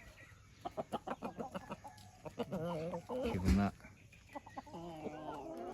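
Chickens clucking and murmuring nearby, a series of short clucks with a louder squawk in the middle, over faint background noise.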